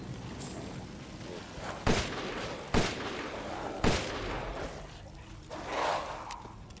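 Gunfire at enemies in Resident Evil Village on the Village of Shadows difficulty: three sharp, loud shots spaced about a second apart over a low rumbling background, followed by a softer swell of noise.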